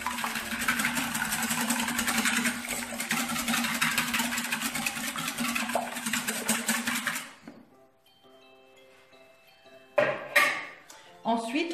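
Three eggs and milk are whisked in a salad bowl for baba au rhum batter, a dense, steady whirring and rattling that runs for about seven seconds and then stops. A quiet stretch follows, then a few brief clattering bursts.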